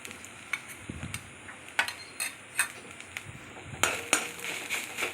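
A spoon scrapes and stirs a thick carrot barfi mixture with cashew paste in a pan, giving soft irregular clinks and scrapes at close range over a faint sizzle, with no voices.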